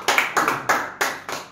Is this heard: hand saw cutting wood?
no